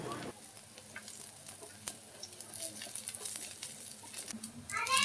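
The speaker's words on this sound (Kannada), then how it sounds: "ಇನ್ನು ಇದು 2 ಕಡೆ ಚೆನ್ನಾಗಿ ಫ್ರೈ ಮಾಡ್ಕೊತಾ ಇದ್ದೀನಿ" Raw banana slices fry in oil with a steady, fairly soft sizzle and scattered crackles, broken by occasional scraping taps of a utensil turning them, and faint talk now and then.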